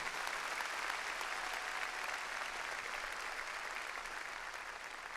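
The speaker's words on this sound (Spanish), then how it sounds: "Démosle palmas fuertes a nuestro Señor." A church congregation claps loudly and continuously for the Lord during a sermon, a broad even wash of applause that holds throughout, slightly distant and alone.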